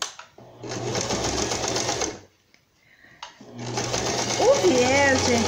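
Sewing machine running seam stitches on a pet jacket, two steady bursts of rapid mechanical whirring separated by a short pause, close and loud, with someone talking over the second run.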